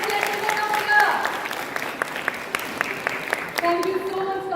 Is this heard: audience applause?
yes